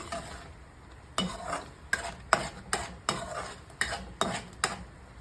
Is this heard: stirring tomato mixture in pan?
yes